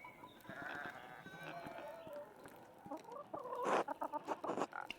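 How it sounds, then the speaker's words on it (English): Chickens cluck in the video game Pentiment, a busy farmyard bed of fowl calls and bleat-like bursts running through the whole stretch, with a louder, choppier cluster of clucks near the end. "familiar sound of chickens."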